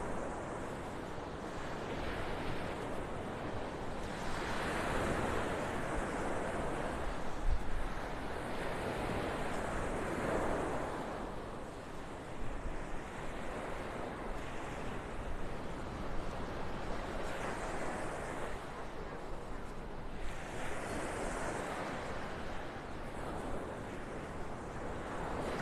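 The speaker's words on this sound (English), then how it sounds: "I'm getting hypnotized by the sounds of those waves." Ocean surf rolling onto a beach in North Naples, Florida, a steady wash of waves that swells and recedes in slow surges, with wind noise over the microphone throughout.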